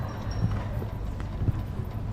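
Horse hooves clip-clop on the ground during a show jumping round at an outdoor event at Blenheim Palace, soft irregular thuds under a constant crowd and arena murmur.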